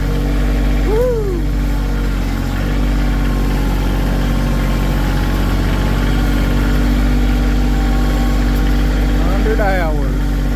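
A 2024 Kioti 2620 compact tractor runs steadily while pushing dirt, its loud low diesel drone constant and close throughout, with brief higher whines near the start and end.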